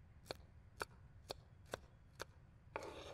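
Onions being chopped in the video game Beyond: Two Souls: five evenly spaced sharp knife strikes on a board, then a rougher scraping cut, quiet and close with nothing else heard.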